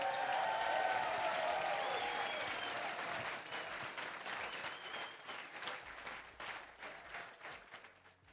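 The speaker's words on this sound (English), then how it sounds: "Let's give those guys a round of applause." Audience applause fills the hall at the Western States 2023 awards ceremony, honouring crews, aid station volunteers and pacers. Steady dense clapping runs throughout and thins gradually toward the end, with no talk over it.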